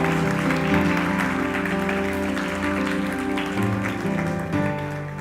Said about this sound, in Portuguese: Aplauda a força do Senhor.